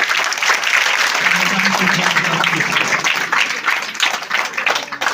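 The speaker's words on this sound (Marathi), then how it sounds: "सर्वांनी टाळ्या बघून त्यांचं स्वागत करायचं" An audience at a school event claps to welcome guests, a dense, steady wash of many hands close by that holds strong throughout, with a voice speaking over part of it.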